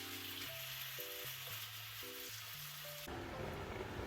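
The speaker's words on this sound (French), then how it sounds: "Je mets de l'huile de sésame dans ma poêle et je fais cuire ma viande" Rump steak frying in sesame oil in a pan, giving a steady close sizzle that runs the whole time, with a melodic tonal line over it and a sudden louder, rougher patch near the end.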